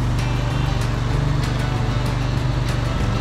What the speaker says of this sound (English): Oh, Dad's mowing the snow.